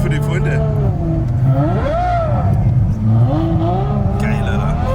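A Ferrari F12 V12 revs and rises and falls in pitch while driving through snow, loud and close, with voices talking over it.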